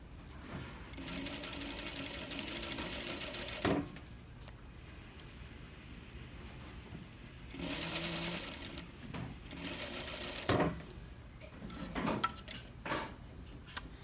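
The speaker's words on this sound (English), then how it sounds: "I'm going to sew forward, back stitch." A sewing machine stitches a centered zipper, running in bursts forward and in reverse for back stitching, with short whirring runs separated by pauses and small clicks, fairly quiet and close.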